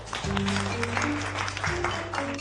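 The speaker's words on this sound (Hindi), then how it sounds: "सभी लोग नैंसी के लिए तालियां बजाएंगे।" Classroom students clap for a classmate, a moderate burst of applause mixed with sustained low tonal hum and background music-like tones.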